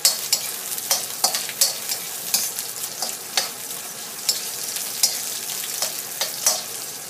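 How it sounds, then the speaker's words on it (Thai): Chili and ginger being stir-fried in a pan give a steady sizzle broken by regular scraping strokes of the spatula, close and clear with no talking. "จากนั้นก็ใส่พริกลงไปค่ะ ผัดให้ความหอมมันออกมาก่อนนะคะ"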